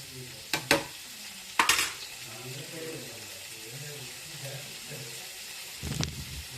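Brinjal fries in a pan with a soft, continuous sizzle, a few scraping stir clatters and faint murmuring voices underneath.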